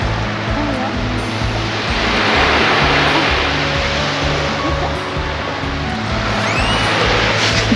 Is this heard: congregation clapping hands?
no